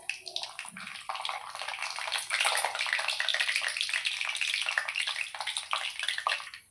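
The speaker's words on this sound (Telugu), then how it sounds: "పోపు దినుసులు అయితే ఫ్రై అయిపోతుంది." Tempering spices of chana dal, moong dal, mustard seeds and cumin frying in hot oil, a steady loud crackling sizzle that swells after the first second and holds close and continuous.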